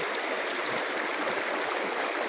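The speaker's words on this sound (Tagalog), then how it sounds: "Andito tayo ngayon sa ilog sa baba ng bahay namin." A provincial river below a house rushes in a steady, broad hiss of flowing water, close and continuous with no voices over it.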